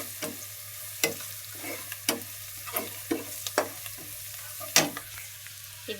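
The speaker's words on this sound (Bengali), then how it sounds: "মাছের মাথা, পেঁয়াজ, মরিচ, হলুদ মশলাগুলো এখন কষে নিচ্ছি" Fish head is sautéed with onion, chilli and turmeric in a pan, with regular sharp spatula scrapes about twice a second over a soft, continuous sizzle.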